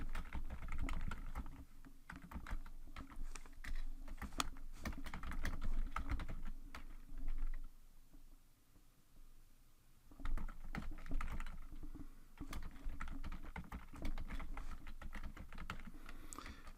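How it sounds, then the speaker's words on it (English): Quick bursts of keystrokes clatter on a computer keyboard, soft and close, with a short pause in the middle before the typing picks up again. "I'm going to type in"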